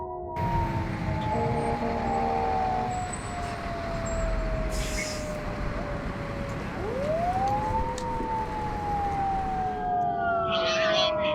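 Ambulance and fire department sirens wail at a mock crash scene, sweeping tones rising and falling over a steady background rumble, with one siren swooping up sharply partway through and carrying on for several seconds.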